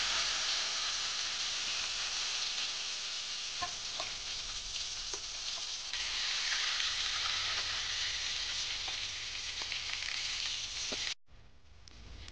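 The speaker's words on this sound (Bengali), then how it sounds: "এবার যে পুর ভরা উচ্ছেটা আমি একে একে করে সব ভেজে নেব।" Stuffed bitter gourds frying in oil in a wok give a steady, close hiss and sizzle with a few faint pops, continuous for most of the stretch before cutting off abruptly near the end.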